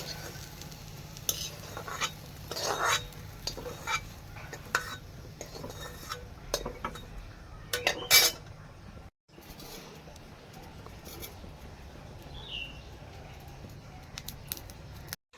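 Fried potatoes lifted from a wok into a dish with a metal spatula, light scraping and clinking of utensils in irregular bursts over a faint background sizzle, close and fairly quiet.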